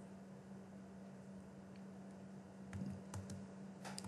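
Someone types a search into a browser on a computer keyboard; after a quiet stretch, a handful of light, close key clicks arrive in quick bursts over a constant background hum.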